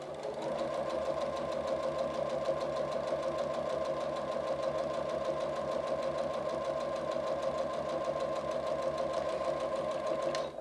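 A sewing machine stitches quilt pieces together, running in a fast steady whirring hum with a rapid mechanical needle rhythm that holds constant for several seconds before stopping.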